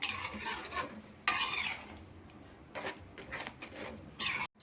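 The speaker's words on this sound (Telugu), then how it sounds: "ఇవంతా వేసేసుకొని ఒక్కసారి కలిపేసి గ్యాస్ ఆఫ్ చేసేసుకుందాం" Paneer curry is stirred in a pan with a utensil, giving loud, close scraping strokes in irregular bursts against the metal, with a faint sizzle between them.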